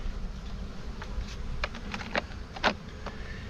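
A honeybee buzzes up close at a farm apiary hive, a steady insect drone with brief louder passes as it moves near, and no one talking.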